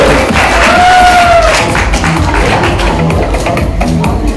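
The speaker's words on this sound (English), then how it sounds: "Big round of applause for this lovely lady on the floor." Applause and crowd noise for a dancer on the floor at an Indian sangeet celebration: a steady wash of clapping and chatter with loud music throughout and a sustained tone near the start.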